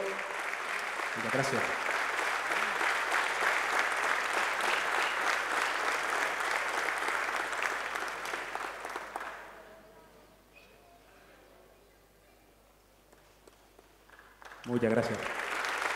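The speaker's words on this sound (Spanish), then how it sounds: "Y un aplauso." Audience applause at a local police award ceremony in Mogán, a long steady round of clapping from a hall crowd lasting several seconds, then fading, with a brief renewed burst at the end; someone speaks briefly over it.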